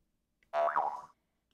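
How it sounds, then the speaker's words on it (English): A single springy cartoon boing rings out briefly with a wobbling pitch, then cuts to silence. "we still get a boing"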